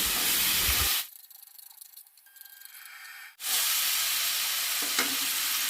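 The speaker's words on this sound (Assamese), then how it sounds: "বিলাহীখিনি দি অকণমান ভাজি ল'ব লাগিব।" Tomatoes fry in a pan and get stirred: a loud close sizzle cuts off to near quiet for a couple of seconds, then the hissing fry returns strongly and continues with a light scrape; no voices.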